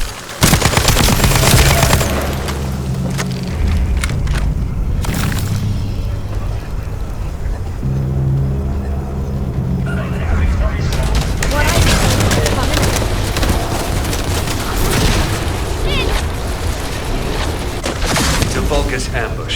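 Turret gunfire in the sci-fi shooter The First Descendant: loud, dense bursts of automatic fire with booms and mechanical clatter that keep going almost without pause under the game's music and effects.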